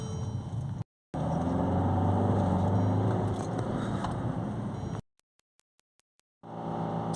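A Mercedes E-Class E220 CDI diesel with an intake air leak and restricted DPF drives on a short test run, a low steady engine and road drone broken by abrupt cuts to silence and a few clicks.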